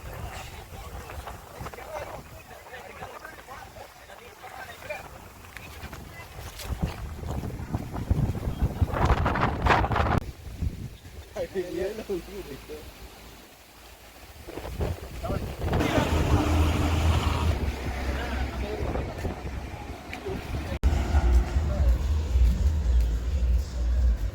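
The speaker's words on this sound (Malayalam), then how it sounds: "തണുത്ത കാറ്റുണ്ട്" Gusty cold wind at Vagamon buffets the microphone with a steady low roar that swells and eases, with a faint engine hum underneath.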